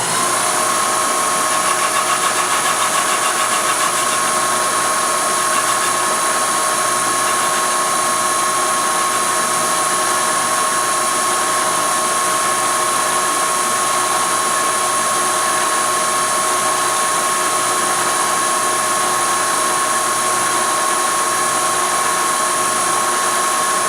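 Machine with a high speed steel cutter running at about 400 RPM under power feed, machining parts for a BSA B25 300cc engine conversion; a steady, loud whine with high tonal hum continues unbroken throughout, no talking.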